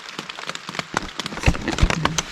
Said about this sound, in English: it is raining. Like, it actually did finally just, it's kind of just slow rain.